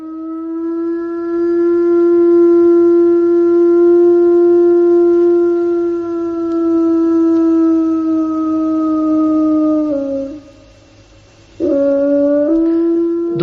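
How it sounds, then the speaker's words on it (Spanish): A wolf lets out a long, steady, loud howl that holds its pitch for about ten seconds, falls briefly silent, then resumes with shorter rising howls, clear and close with no other sounds. "Los especialistas todavía no saben por qué aúlla el lobo"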